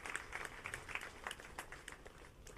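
An audience applauds for Dr. Suri Bhagavantam at a 115th birth anniversary commemoration, scattered hand claps pattering faintly and unevenly from a distance throughout.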